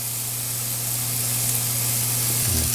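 Pork roast searing in a hot pan, a loud, steady hiss and sizzle at close range, with a low hum beneath and a brief shift near the end.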